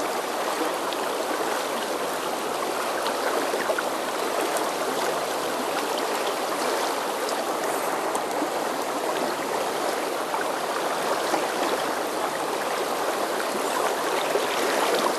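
A trout river flows past a small riverside fishing community, a steady broadband rush of moving water that holds an even loudness throughout, with no voices.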